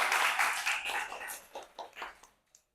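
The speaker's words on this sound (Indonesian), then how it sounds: "Mungkin bisa beri tepuk tangan dulu bagi teman-teman yang sudah menjawab tadi." Classroom applause for students who answered questions during a university teaching session, a brief burst of clapping from a small group that fades quickly into a few scattered claps.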